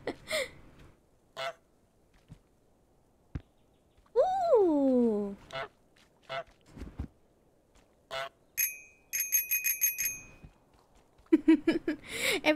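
The goose in Untitled Goose Game honks: short nasal honks, one long sliding honk, then a quick string of repeated honks near the end, all close and loud with scattered clicks between.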